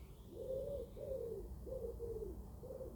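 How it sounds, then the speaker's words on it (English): A pigeon coos in a garden setting, four soft rounded phrases in a steady rhythm, fairly near and clear over a low background rumble. "Hello, Mr. Pigeon."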